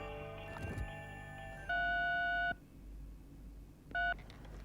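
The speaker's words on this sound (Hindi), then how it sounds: "आप मिस्टर डिसूजा को फोन कीजिए" A short series of telephone keypad tones, two sustained dual-pitch beeps with a pause between, over faint background noise.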